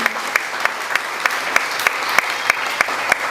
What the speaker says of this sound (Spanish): Un fuerte aplauso para Porfirio también